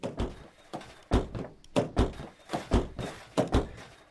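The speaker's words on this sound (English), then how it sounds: "We can properly slam the door" Car doors in The Long Drive thunk shut again and again in a quick, uneven run of about a dozen close, heavy knocks with short gaps between them.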